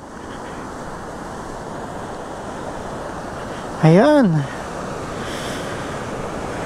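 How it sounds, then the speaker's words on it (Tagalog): Strong rushing water surging past rock formations at a natural spot in Tarlac, a loud continuous roar close by, with someone speaking briefly over it midway. "Ayan, lakas ng tubig."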